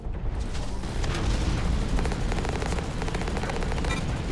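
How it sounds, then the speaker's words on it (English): Continuous heavy gunfire from the mech shooter game Hawken, a dense rapid stream of loud shots with booming impacts sustained throughout, with no talk over it. "Got some shooting going down over here."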